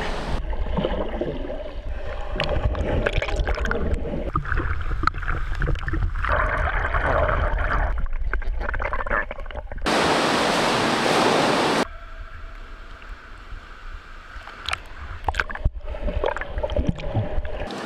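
Water polo players swim warm-up laps in a pool, and their strokes make continuous splashing and churning water up close. Midway through, a brief louder burst of rushing water cuts in.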